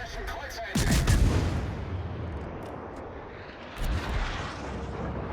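Heavy naval gunfire rumbles from warships in a World of Warships battle, with a deep booming salvo near the start and another about three seconds later, each followed by a long rolling roar under steady background noise.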